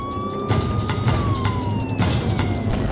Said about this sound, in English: The sirens went off as the team jumped into action